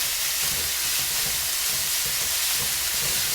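Cube steaks sear in a very hot pan, giving off a steady, loud, broadband sizzle that holds constant throughout without any talk.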